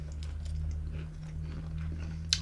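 Someone chews crunchy guanti pastries dusted with powdered sugar, a soft, steady crunching close to the mouth with a sharper bite near the end.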